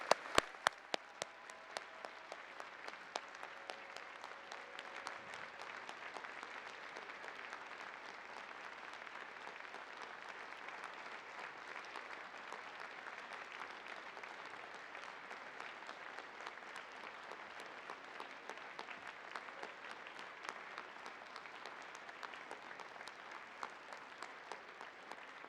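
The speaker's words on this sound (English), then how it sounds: "give a huge round of applause to all the people who supported you throughout" Convocation graduates at a university ceremony give a long, steady round of applause for their supporters, dense clapping filling a large hall at moderate distance and sustained throughout.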